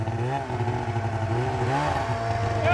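Motorcycle engine revving and then bogging with a steady, uneven mid-range drone and wavering pitch, close and fairly loud, with voices talking over it.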